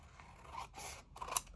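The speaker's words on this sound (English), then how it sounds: "I'm just going to cut this out." Scissors cut through paper in a few crisp snips with a scraping slide between them, close up and quiet, with no one speaking.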